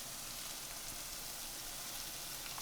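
Pork with red cabbage and green onions fries in a pan for an egg roll filling, giving a steady, dense sizzle with fine crackling throughout, moderately quiet and without talk.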